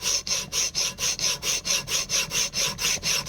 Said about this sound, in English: I'm going to start with my coarse stone here, and you want to make sure you use even pressure